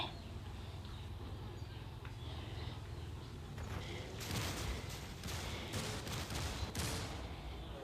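Gunfire in GTA San Andreas, faint rapid bursts of shots crackling in quick clusters over a low background, growing denser and sharper in the second half.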